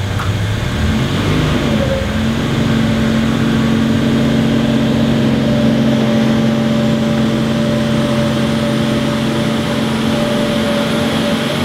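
Toyota 2JZ 3.4-litre VVT-i engine running on a dyno, a steady loud drone with a rising tone early on that then holds at a constant pitch throughout.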